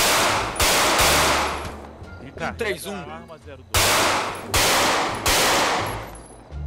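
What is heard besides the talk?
gunfire at shooting practice in GTA 5 video game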